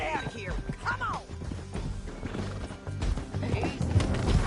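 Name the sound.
horse galloping, from video game Red Dead Redemption 2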